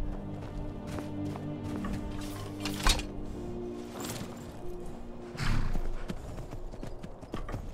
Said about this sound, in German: Ah, hier ist das Pferd.